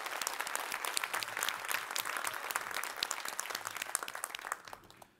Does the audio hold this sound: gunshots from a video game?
no